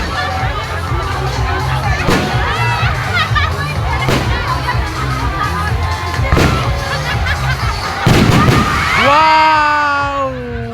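Fireworks bang and burst repeatedly at intervals at a Christmas lights opening, loud sharp pops with a crowd murmuring and cheering throughout, a whistling rise near the end.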